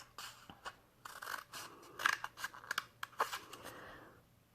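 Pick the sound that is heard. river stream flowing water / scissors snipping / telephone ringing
scissors snipping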